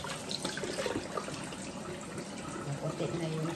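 Water runs and splashes as a milkfish is rinsed, a faint, continuous trickling with small clattering splashes, while someone talks quietly underneath.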